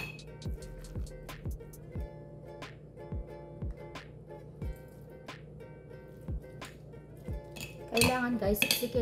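Fermented shrimp and rice being spooned into a jar: a steady series of close clinks and scrapes of utensil on glass, about one every half second, ending in a louder cluster of knocks.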